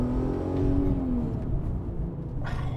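A Volkswagen Golf R32 Mk5 engine pulls hard under acceleration, a steady close-up rumble with a rising then falling engine note over a constant low drone, no talk.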